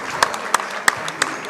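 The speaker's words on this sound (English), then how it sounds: "The Rice Lake Warriors seniors on senior night get a big round of applause." Crowd applause at a girls high school basketball game on senior night for the Rice Lake Warriors, heard as scattered, fairly loud claps in a gym with a few sharper bursts.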